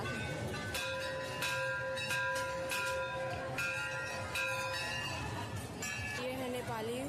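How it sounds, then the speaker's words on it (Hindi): A temple bell at the Gadhimai fair in Nepal rings out several times amid a busy, noisy crowd, its clear tones lingering over the chatter. "हम लोग भी घंटी बजाएं"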